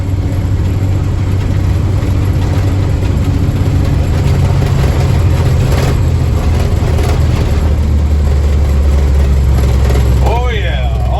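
An International Harvester S1900 log truck hauling a load of logs toward a mill drones steadily in high gear, a loud continuous low engine rumble heard from inside the cab throughout.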